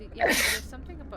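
A single short sneeze bursts out close by, followed by a person talking.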